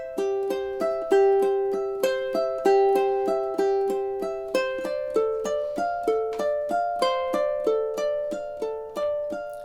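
Solo ukulele plucks the opening two measures of Bach's Prelude in C as steady, evenly spaced broken-chord arpeggios, each note ringing clearly and close, with no voices.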